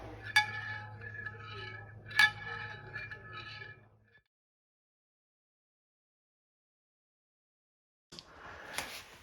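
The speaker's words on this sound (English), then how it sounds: "then we're gonna stir in the yogurt starter" A spoon stirs yogurt starter into lukewarm milk that has cooled to about 108 degrees, giving two light clinks against the pot, then several seconds of silence before more faint stirring.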